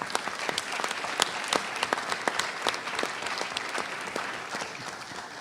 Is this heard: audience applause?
yes